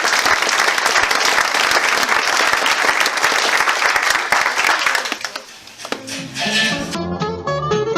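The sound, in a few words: audience applause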